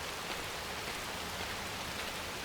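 Rain falls on leaves on a rainy night in Chicago in the video game Watch Dogs, a dense, even hiss that holds steady throughout with no voices.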